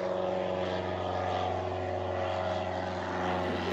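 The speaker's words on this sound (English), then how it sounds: "listening to the wonderful sounds of planes, big metal birds just flying over me" Propeller planes droning overhead near an old wartime bunker and quarry, a steady, even engine hum with strong low tones that holds for several seconds, heard from the ground with no talking.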